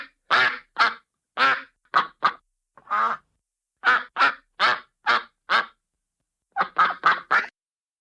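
Several ducks quack in loud, close, nasal calls, about fifteen in all, coming in short clustered bursts separated by brief silences.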